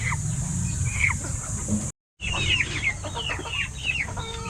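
Young chickens squabble in a brooder, a cluster of high chirps and short clucks over a steady background hiss, briefly cut off for a moment before the chirping resumes.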